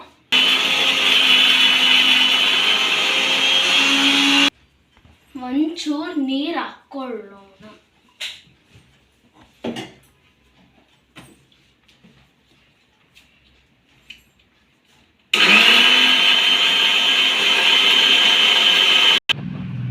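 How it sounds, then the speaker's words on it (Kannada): A mixer grinder blends coconut chutney of coconut, coriander, green chilli and roasted gram, loud whirring bursts at the start and end separated by a quiet stretch where a voice speaks and small kitchen knocks sound. "ಇದು ಮಿಕ್ಸಿ ಮಾಡಿಕೊಂಡು"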